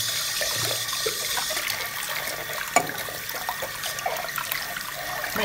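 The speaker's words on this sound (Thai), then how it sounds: "มาล้างดูใส่น้ำล้างเลยนะครับ ล้างข้างในล้างข้างนอก" Running water from a tap splashes and trickles while a glass cup is rinsed inside and out, a steady close hiss with small irregular splashes and one brief clink partway through.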